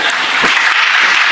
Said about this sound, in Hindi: 10 मिनट में 2-2, 3-3 बार तालियां बज रही हैं